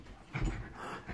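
Two Staffordshire bull terriers play fighting at close range, with quick panting breaths and snuffles that rise and fall in a short burst.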